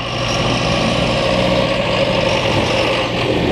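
In downtown Montreal, a John Deere snow removal machine idles nearby with a steady, loud, droning engine rumble that holds level and unbroken throughout.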